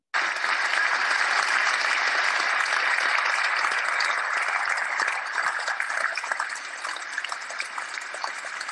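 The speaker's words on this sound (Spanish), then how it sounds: "Podemos seguir recibiendo aplausos también." A sudden burst of dense, hissing applause, fairly loud and continuous, gradually thinning slightly toward the end, with no talk over it.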